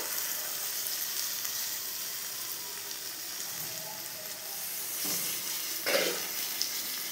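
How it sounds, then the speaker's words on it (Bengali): Onions and mutton fat frying in a pot for homemade biryani with bay leaf, giving a steady, moderate sizzle with a few louder spits and pops near the end, no talking. "পেঁয়াজের সঙ্গে এই মাটনের চর্বিটা দিয়ে দেবো, এর থেকে তেল বেরোবে"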